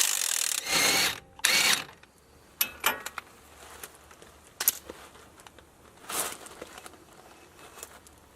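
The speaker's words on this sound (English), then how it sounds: "I'm going to be using a 21mm socket to remove the bolt that holds the lower part of the shock on" A ratchet on a 21mm socket loosens the lower shock bolt on a 2010 Dodge 3500 with the 6.7 Cummins during a Bilstein 5160 install. Close, intermittent bursts of rapid clicking are separated by quieter pauses, and no one speaks.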